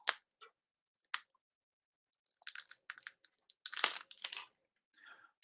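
A heat seal is peeled off a plastic liquid injection cup, giving quiet crinkling, tearing and crackling bursts that come in short separated bursts up close, with silence between them.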